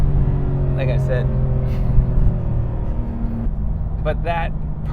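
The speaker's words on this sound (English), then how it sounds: "but that perfect exhaust note, you can't get that with straight pipes" A Porsche 991 GT3 street car with its stock exhaust hums at a steady idle-like drone, while a voice talks over it throughout.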